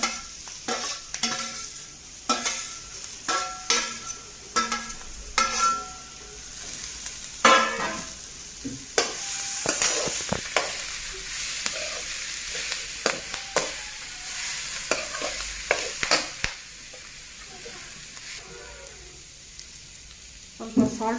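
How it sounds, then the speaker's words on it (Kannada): Fried ivy gourd (dondekayi) being stir-fried in a pan for a Karnataka-style palya: steady close sizzling with repeated scraping and stirring clatter throughout, a few louder spatula knocks, no talking. "ಈಗ ಫ್ರೈ ಮಾಡಿ ಇಟ್ಕೊಂಡಿನ ಅದು ಈ ದೊಂಡೆಕಾಯಿ ಎಲ್ಲ ಇದರೊಳಗೆ ಹಾಕ್ತೀನಿ."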